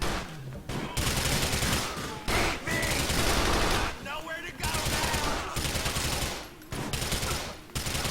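Rapid SMG fire in a video game comes in several long bursts separated by short pauses, loud and close, with a voice talking underneath.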